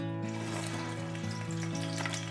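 Boiled and cleaned crabs fry in hot oil with a loud, continuous sizzle and crackle, close up and with no talking.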